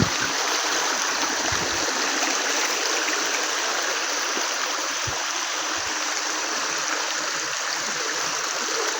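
Water of a river streams along steadily close by, a dense, continuous rushing wash with an even level and no voices throughout.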